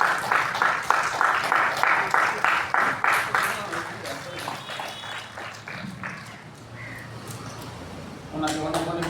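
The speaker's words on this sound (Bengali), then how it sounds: "আমাদের সেখানে করতালি দেবে।" Audience applause at an International Day of Yoga gathering in Hooghly, rhythmic group clapping in even beats at first, thinning into scattered claps with faint voices underneath.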